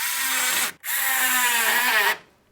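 A power tool drives intercooler silicone coupler clamps tight, whirring in two close, loud bursts with a brief pause between, the pitch dropping slightly as the clamp tightens, then winding down.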